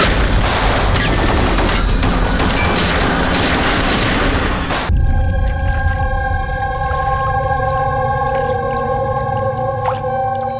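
Sustained, loud gunfire in a CID TV crime drama scene fills the first five seconds as a dense roar, then gives way to ringing, tonal dramatic sound effects.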